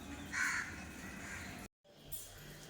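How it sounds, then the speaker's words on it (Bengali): Morning crows caw loudly and close by, with a harsh call near the start that runs into a chorus of cawing, briefly broken by a moment of silence before the calls resume. "পাখিদের কলরব ভালো লাগে না"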